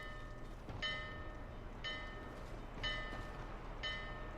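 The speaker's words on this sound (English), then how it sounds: "And it's ringing a bell." A bell rings four times at an even, slow pace in the video game Dark Souls 2 at No Man's Wharf, each strike leaving a bright ringing tone over a low rumbling background.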